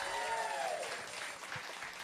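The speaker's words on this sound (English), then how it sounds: "Give a big old round of applause for them." An audience at a country music concert applauds, a steady wash of clapping at moderate distance that thins slightly toward the end, with a voice faintly audible over it.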